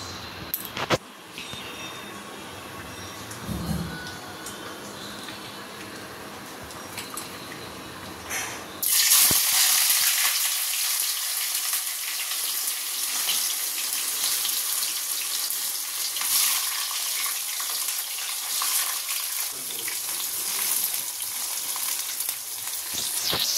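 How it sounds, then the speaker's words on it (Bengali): Sliced bitter gourd hits very hot oil for shukto and breaks into a loud, steady sizzle that carries on unbroken after a quieter opening with a few handling clatters. "এখানে তেলটা একদম গরম হয়ে গেছে, উচ্ছেটা ভেজে নিই।"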